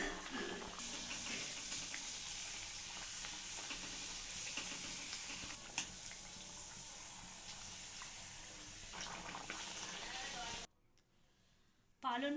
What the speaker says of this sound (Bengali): এবারে আমি একে একে পুরিগুলো ভেজে নেব।